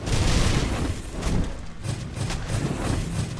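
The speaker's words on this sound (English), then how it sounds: "I love that the Book of Fire gives it a little bit of an explosion radius as well" In the game Book of Demons, a mage's Book of Fire spell sets off explosions as a run of muffled booms and thumps, with rumbling blasts repeating over a few seconds.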